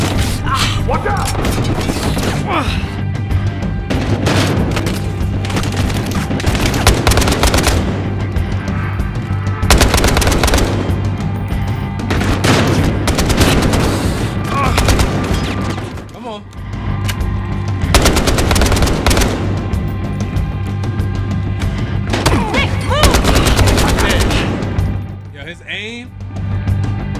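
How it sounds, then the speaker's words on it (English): Heavy automatic gunfire from a Battlefield Hardline firefight on PS5, loud sustained bursts of shots and booms repeating in waves, with people talking over the shooting. "Friendly fire her because I'm shooting the shit out of her."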